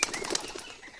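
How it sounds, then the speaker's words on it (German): A pigeon flaps its wings in the Bear Simulator video game, a brief burst of soft, fluttering beats over about a second at moderate loudness, alone with no talking. "eine Pigeon, eine Taube."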